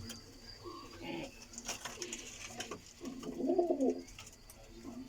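Rampuri pigeons coo near the microphone, soft warbling calls rising to a clear rolling coo toward the end, over a low murmur of background noise and distant voices.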